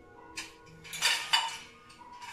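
Plates clatter and clink against each other while being set into a newly unboxed dish drainer, a few light ceramic knocks close by in a quiet room.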